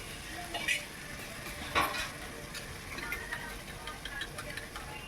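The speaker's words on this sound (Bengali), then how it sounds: "ভালো করে নেড়ে চেড়ে নিতে হবে।" A spoon stirs shahi paneer in a frying pan after a splash of water, with soft scraping strokes and a couple of clinks over a faint, steady sizzle, close by and quiet.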